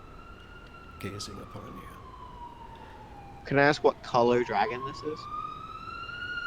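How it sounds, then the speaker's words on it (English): City emergency sirens wailing in the distance, a steady high tone that dips and then rises again across the whole stretch, faint behind someone speaking. "Sorry about the sirens in the back."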